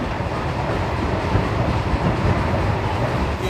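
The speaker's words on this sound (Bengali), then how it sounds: "আমাদের ট্রেন ছুটে চলেছে তার দুর্বার গতিতে" The Balurghat Express rushing at speed along a single-track line, a steady loud rumble of wheels and carriage noise with faint clatter, heard from inside a general coach without pause.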